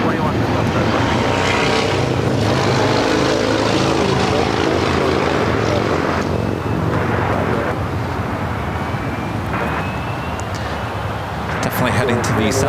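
Steady loud roar of an Airbus A320 airliner's engines at LAX, with a continuous broadband rumble and faint rising whine, heard up close and fairly constant throughout.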